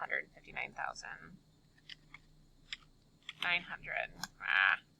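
Keystrokes on a computer keyboard come in short bursts of quiet clicks and taps, with soft clicking in the pauses, recorded close by during a mortgage down payment calculation.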